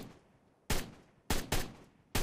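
A Tek Stryder's proton cannon head fires in ARK: Survival Evolved, sending four sharp, loud blasts at uneven intervals, each one fading into a decaying tail.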